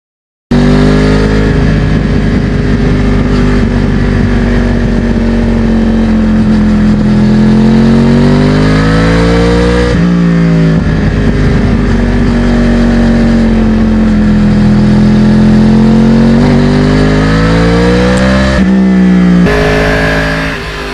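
A 2009 Yamaha R1 crossplane sportbike engine revs steadily and loudly while riding, its pitch rising and falling through gear changes for about twenty seconds, with wind noise and no talk.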